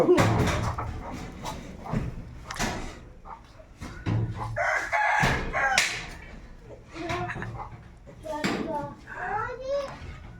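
A rooster crows amid clucking chickens, with children and adults talking nearby and a dog barking in a busy outdoor scene.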